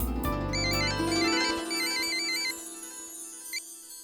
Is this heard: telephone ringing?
yes